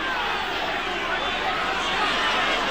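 Rugby league crowd at a Kangaroos versus Oldham match in 1986, a steady broadband roar of cheering and chatter filling the stadium, loud and continuous throughout with no clear breaks.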